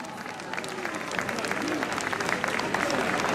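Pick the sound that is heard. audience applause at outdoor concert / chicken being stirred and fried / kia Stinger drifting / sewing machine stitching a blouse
audience applause at outdoor concert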